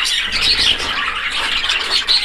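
Young parrots of many colours, about two months old, screech and squawk together in a steady, close, overlapping racket, with no voices.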